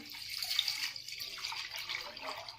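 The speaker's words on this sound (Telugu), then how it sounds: "ఇప్పుడు చిక్కటి పాలండి ఒక లీటర్ పోసుకోవాలి" About a litre of thick milk is poured into a kadai on a lit stove, giving a soft, continuous liquid splashing and trickling close by, fairly quiet, with no talking.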